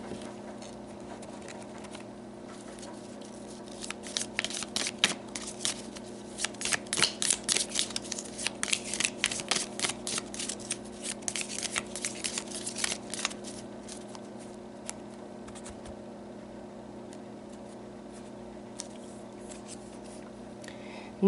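Tarot cards shuffled by hand in a quiet room, a long run of quick papery riffles and flutters building to a dense stretch in the middle, then thinning out to light scattered taps.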